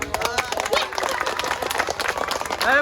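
A crowd claps for the winner at a long jump competition, a dense, steady patter of many hands close by, with voices talking over it.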